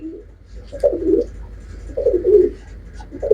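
Pigeons coo in repeated low, throaty bursts, close and fairly loud, with short pauses between each rolling call.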